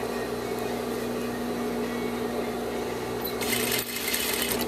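Sewing machine stitching the seams of a sheer panel, running in a fast, steady mechanical hum close by. Near the end the tone shifts and grows brighter.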